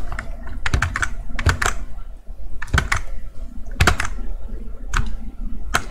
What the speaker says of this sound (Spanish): O no sé si este teclado es muy ruidoso.